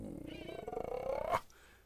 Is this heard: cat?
yes